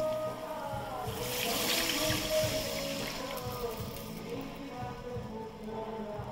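Bowl-rinse water, left from grinding cashews and raisins, is poured into masala cooking in a pan for a green banana kofta curry, giving a steady trickling splash that swells and then settles into a low sizzle.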